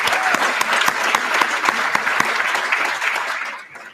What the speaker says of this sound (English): let's give one more round of applause for them getting you here